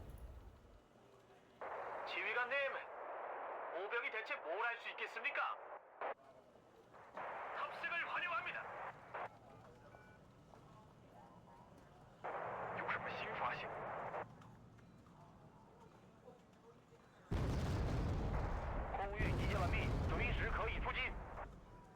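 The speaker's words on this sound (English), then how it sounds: "Is that a mortar? It is." Mortar rounds fire and impact in a military video game, several loud bursts spread across the scene with a heavy, sustained blast near the end, while someone talks between the shots.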